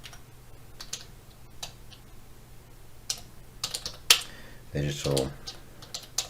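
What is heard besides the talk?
typing a search on a computer keyboard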